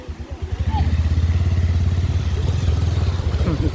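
A motorcycle engine idles and revs nearby, a loud steady throbbing with rhythmic pulsing, as people talk over it.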